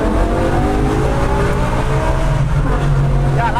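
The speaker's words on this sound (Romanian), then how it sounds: "Și dacă îi dai maxim blană, o să vezi că schimbă inferioară" Audi RS6 with 720 HP driven at full throttle, engine roaring loud and close with rising revs and gearbox downshifts, a dense continuous mechanical howl.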